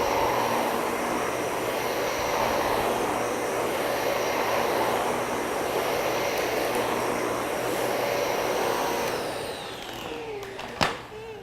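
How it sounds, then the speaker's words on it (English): A Dyson bagless vacuum cleaner runs with a loud, steady whining roar that holds for about ten seconds, then winds down near the end, with a brief knock as it stops. "Dysons have tremendous suction,"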